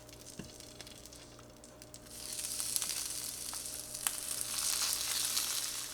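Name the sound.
meatballs sizzling as they go back into the frying pan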